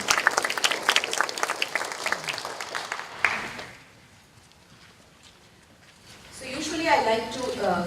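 An audience at a school public speaking event claps briskly at first, the applause fading into near quiet before a voice starts speaking.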